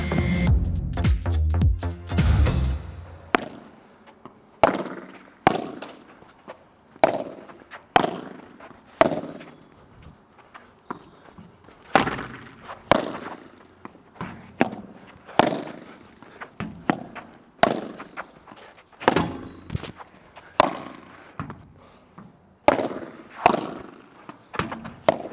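Padel ball struck with a racket in a run of sharp, loud impacts at an irregular rhythm of a few seconds apart, each one followed by a short echoing decay, with no talking.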